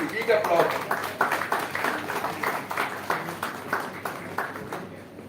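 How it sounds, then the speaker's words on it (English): Audience applause at a one-day university seminar, moderately loud claps in a loose rhythmic pattern that gradually thins out, with a voice speaking faintly over it. "Magadh University, big applause."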